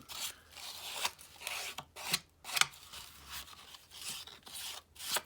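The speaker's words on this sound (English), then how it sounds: "I've got some really fine sandpaper, and it'll take them right off and smooth them out" Fine sandpaper rubs burrs off a woven piece in repeated rasping back-and-forth strokes, a dry scratchy rhythm roughly twice a second, close and quiet, with no talking.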